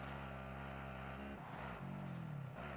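ATV engine in Warzone, a buzzing motor held at steady revs that dips briefly and climbs again, close and loud with no talk.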